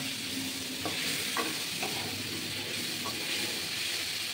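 Matar paneer masala sizzles steadily as it is sautéed in a pan over low heat, with a constant close frying hiss and a few soft stirring scrapes of the spoon against the pan, no voices.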